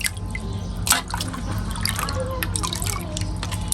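Tap water runs steadily over raw chicken pieces being washed, a continuous close splashing trickle with brief louder spatters.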